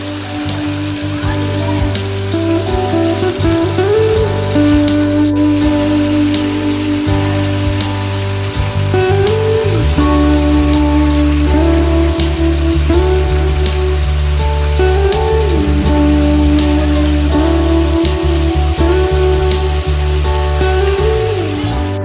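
Continuous loud rush of falling water from a waterfall inside the Garden of Caves in Cherrapunji, Meghalaya, a steady dense roar with a droning tonal hum layered on top and no pauses.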